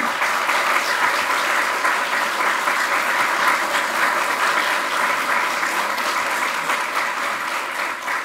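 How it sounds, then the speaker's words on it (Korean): Sustained, dense applause from an audience at a Liberty Korea Party supporters' day event, steady and loud throughout with a broad crowd wash and no speech over it. "여러분 뜨거운 응원의 박수 한번 부탁합니다."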